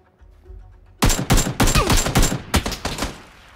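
Rapid bursts of gunfire from a PUBG match, a dense volley of loud, close shots in quick succession after a brief low rumble, no talk.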